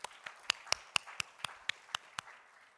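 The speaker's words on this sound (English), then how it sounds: "Can we please have a round of applause for them?" A few hands clapping for guests at a chronic care event, sparse and evenly spaced sharp claps at a moderate distance, about ten in a row, with no talk.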